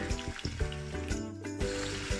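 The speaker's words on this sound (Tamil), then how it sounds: "ஆயில் இருந்தபடியாக அதிலேயே பொரிக்கிறேன்" Steady sizzling and crackling of food frying in hot oil for chicken dum biryani, with a few soft clinks and stirring sounds, moderately close.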